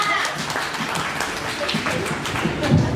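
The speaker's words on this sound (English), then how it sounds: "Round of applause, please." Audience applause at an indie authors networking meeting, a steady patter of clapping from a modest crowd filling the room for a few seconds at an even level.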